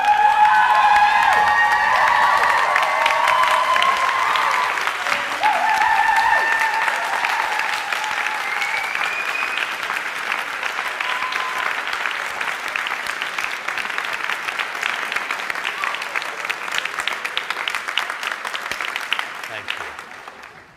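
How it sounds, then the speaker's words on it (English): Graduation ceremony audience applauding friends and family, a long sustained wave of clapping with cheers and whoops rising early, then settling into steady clapping before tapering off. "applaud your friends and family to thank them"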